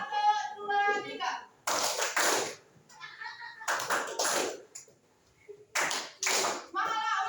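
Grade 8 junior high students in an Indonesian classroom clap their hands together in rhythmic bursts, alternating with group chanting by young voices between the clusters of claps.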